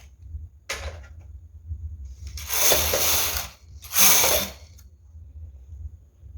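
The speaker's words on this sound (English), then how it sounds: "So pack the needle together and knit 2 rows." Carriage of a knitting machine sweeps twice across the needle bed working lace rows, each pass a loud, rasping mechanical whir of about a second and a half, with a lighter clack before them over a low background hum.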